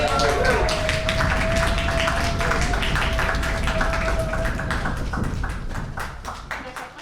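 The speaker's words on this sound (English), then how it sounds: "Please welcome all the way to the stage with a beautiful round of applause and a stomp of your feet, Steph." Applause and stomping feet from a poetry slam audience at Fitzroy Library in Melbourne, a dense, steady wash of claps and thumps that stays loud and then thins toward the end, with a sustained tone running beneath part of it.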